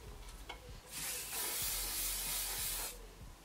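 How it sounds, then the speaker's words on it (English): Hairspray misted onto styled curls: a steady aerosol hiss of about two seconds, close and fairly soft, rising and fading cleanly. "And now you want to get some hairspray."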